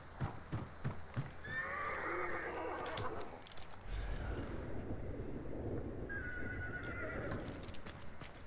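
A horse whinnies twice in the swampy world of the Hunt: Showdown video game, shrill neighs over low ambient rumble and faint hoof clops, moderately distant.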